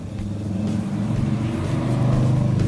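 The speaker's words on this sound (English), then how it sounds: "Sorry for the motorcycle noise," Harley motorcycle passing by outdoors, a low rumbling engine drone that builds gradually and holds steady, fairly close and loud without any talk.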